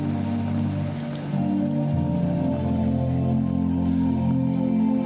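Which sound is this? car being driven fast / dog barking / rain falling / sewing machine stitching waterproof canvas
rain falling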